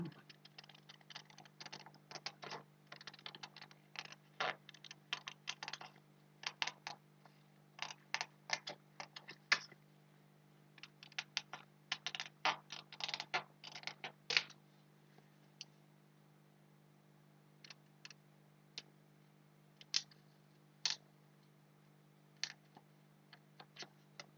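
Scattered sharp snips and clicks of cutting around the outside of a mineral album page with a template, arriving in irregular bursts with quiet gaps, close and faint against a low steady hum.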